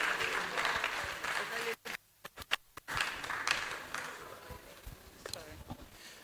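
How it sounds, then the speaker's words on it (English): At a medical and dental alumni gathering, the audience claps for a doctor in an uneven, moderately loud round that briefly drops to a few scattered claps before swelling again, with voices talking over it. "A round of applause for Dr."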